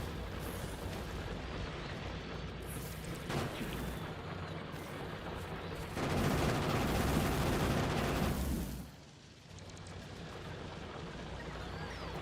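Rapid incendiary-round gunfire in Factorio rattles on continuously as a dense, steady wash of shots, swelling louder for a few seconds before easing back, with no voices over it.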